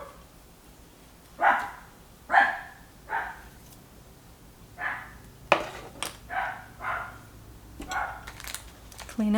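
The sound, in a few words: dog barking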